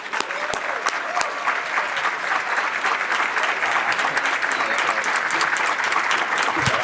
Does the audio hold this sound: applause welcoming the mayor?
yes